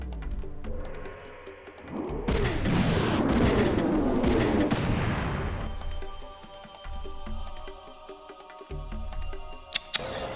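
Sniper rifle shots in the Front Mission 3 PlayStation game boom and echo over a layer of game effects, with a few sharp cracks and a long rumbling tail between them.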